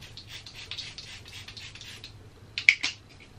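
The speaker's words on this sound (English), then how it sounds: "And I'm just going to just spray my face." A Kat Von D Lock It setting spray bottle spritzes onto a face in two or three quick, close hissing bursts after a stretch of faint rustling.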